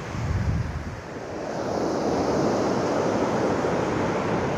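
Surf breaks and washes steadily along Great Yarmouth's north beach on a windy morning, a broad continuous roar swelling louder after a brief dip, with wind buffeting the microphone and no voices.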